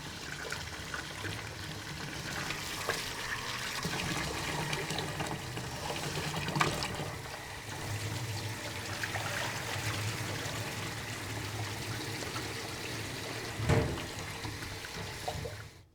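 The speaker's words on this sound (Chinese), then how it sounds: "用如此挤和压的方式来洗米，然后冲洗5到6次。" Sushi rice is washed in water by squeezing and pressing, with steady sloshing and trickling through the whole clip, plus brief clatters of grains and a bowl, close up and no voices.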